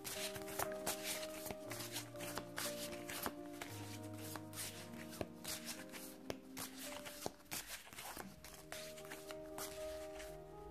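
Oracle cards being shuffled by hand during a tarot-style reading, a run of soft riffling and sliding card sounds over faint background music, with no talking.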